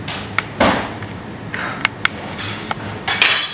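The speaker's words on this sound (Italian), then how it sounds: "Schiacciamo l'aglio." Garlic being crushed in a kitchen, heard as a sharp thump followed by scattered clinks and knocks of utensils against a hard surface, close and fairly loud over a low room hum.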